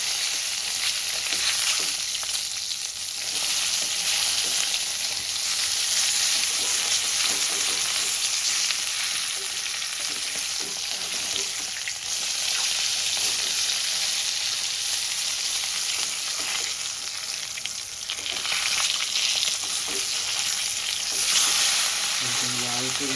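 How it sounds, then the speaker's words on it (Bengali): Catla fish pieces frying in hot oil in a pan, a continuous loud sizzle with occasional crackles and stirring, close up, no talk. "লাল লাল করে ভেজে এই পিসটা লাল হয়ে গেলে আমি উল্টে দেবো"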